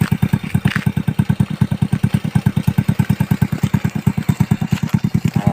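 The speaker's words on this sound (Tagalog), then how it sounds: "Ay, yung motor namin yan." A Rusi motorcycle engine runs steadily nearby, its single-cylinder putter thumping in a fast, even rhythm with a clattery mechanical edge and no talk over it.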